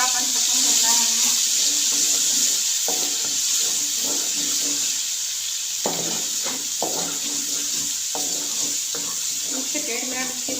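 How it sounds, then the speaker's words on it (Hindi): Garlic paste frying in oil in a pan for a karela and onion dish, a steady loud hiss and sizzle throughout with intermittent stirring clatter, and someone speaking over it. "इसी ऑयल के अंदर 1 खाने का चम्मच लहसुन का पेस्ट डाल देंगे। इसको हमें फ्राई करना है"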